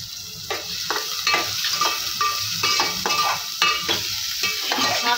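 Finely chopped onion with cumin sizzles in hot oil for a dhaba-style egg masala, a steady close frying hiss broken by regular scraping stirs about every half second, with no voices.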